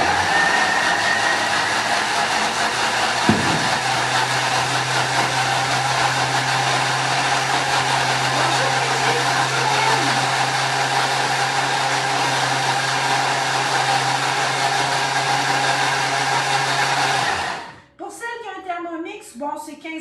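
Blender pureeing vegetables and zucchini, a loud steady motor whine running continuously for about seventeen seconds before cutting off abruptly, with a voice speaking right after it stops.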